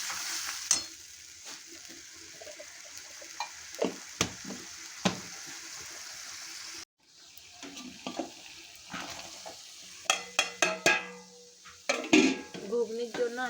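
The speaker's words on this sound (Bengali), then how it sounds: "ঘুগনির জন্য আমি এখানে পেঁয়াজটা ভেজে নিচ্ছি।" Onions sizzle as they fry in a pan for ghugni, a steady quiet sizzle broken by repeated spatula scrapes and clinks against the pan.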